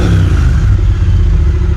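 A 2018 Triumph Bonneville Speedmaster motorcycle engine revs loudly up close, a steady, heavy, throbbing roar that holds for the whole stretch with no voices over it.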